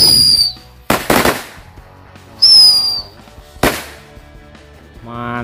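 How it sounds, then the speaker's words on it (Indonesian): Mercon tikus Thor firecrackers are lit for Lebaran, shrieking whistles followed by sharp, loud bangs in sequence, with a crackling fizz near the end and a voice briefly audible. "Selanjutnya ini kita nyalakan mercon tikus Thor."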